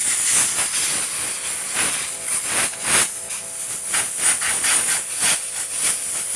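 Compressed air blasts at the intake hole of a weed eater to clear away dirt and grime, a loud steady hiss swelling in repeated short bursts, close up with no talking.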